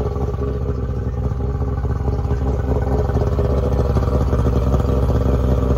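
A Skeeter fishing boat's motor runs steadily and close, with a continuous, even engine drone and a faint rattle throughout. There are no voices.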